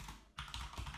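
A few quick keystrokes on a computer keyboard as a command is typed, a very brief and faint patter of clicks with no voices.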